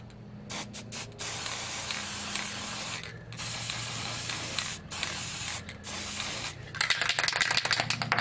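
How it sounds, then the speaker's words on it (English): Long hissing bursts from an aerosol can of disc brake quiet compound sprayed on brake pads of a 2011 Ford Taurus, close up and loud, broken by short pauses and a few quick spurts, with no talking. "And I spray that on the back"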